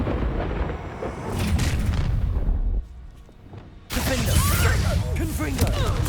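The Confringo explosive spell going off in Hogwarts Legacy, loud crackling blasts and booms that drop out briefly before the combat noise returns, with a voice underneath.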